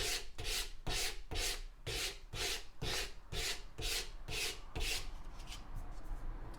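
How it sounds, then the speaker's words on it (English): Coarse sandpaper is rubbed by hand across a steel hammer face in steady back-and-forth strokes, about a dozen rhythmic scratchy passes that ease into lighter rubbing near the end, close and alone with no talk. "start with some coarse sandpaper and we'll get rid of those file marks"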